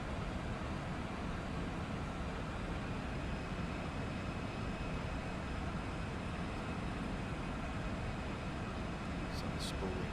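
Jet engines of an Embraer E-175 airliner in the X-Plane 12 flight simulator. A steady, dense engine roar holds at an even level throughout, with a faint high tone running through it.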